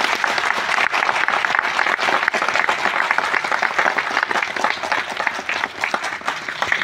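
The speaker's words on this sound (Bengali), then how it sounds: "সবাইকে বলবো অনেক জোরে আপনারা হাততালি দেবেন" Loud, dense applause from an audience at an Atomy India corporate event, steady sustained clapping for nearly seven seconds without a pause.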